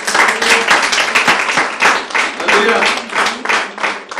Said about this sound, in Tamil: விசுவாசிக்கிறவங்க மட்டும் நல்ல ஒரு கைத்தட்டு கொடுங்க.